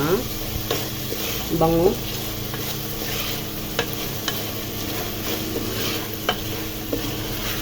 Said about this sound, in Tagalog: halo-haloin lang natin para ma-fry siya